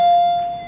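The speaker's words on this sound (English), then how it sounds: "It has the newer chime." A single clear electronic chime from an elevator with Innovation fixtures, installed in 2012 in the Tree Ring Building at the University of Arizona. The steady bell-like tone is close and loud, then fades briefly.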